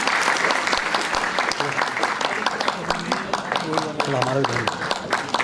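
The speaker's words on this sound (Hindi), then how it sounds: "तालियों की गड़गड़ाहट के साथ हम इस कार्यक्रम की शुरुआत करेंगे।" Applause from an audience at a national university seminar in India, sustained crowd clapping heard fairly close, with some voices and other sounds mixed in underneath.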